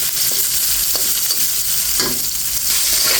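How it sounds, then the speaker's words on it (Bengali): Teasel gourd frying in a pan for a fish curry with potatoes, a steady loud sizzle with a few scraping stirs and turns of a spatula against the pan, no voices. "কাঁকরোলটা ভাজার সময় একটু উল্টে পাল্টে বারবার দিতে হবে"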